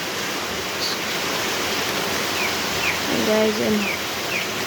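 A waterfall's steady rushing water fills the scene, a constant broadband roar with a few faint bird chirps and brief vocal sounds near the end.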